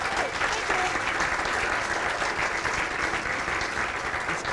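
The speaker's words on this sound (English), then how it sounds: "you can give them a round of applause" Audience at a company pitch night giving a steady, full round of applause, dense clapping throughout without a break.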